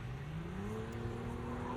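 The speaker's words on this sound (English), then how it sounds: "cars are going." Cars drive past on a quiet street in the morning, a faint, steady engine hum and tyre whir rising slowly in pitch as a vehicle approaches, distant and soft.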